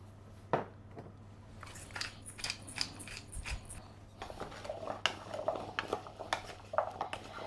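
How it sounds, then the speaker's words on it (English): Butternut squash is tossed with salt and pepper in a bowl, making soft, quiet scrapes, clicks and wet shuffling in irregular bursts, with a faint low hum underneath. "I'm now just going to toss this together with some added salt and pepper and get that butternut squash nice and coated"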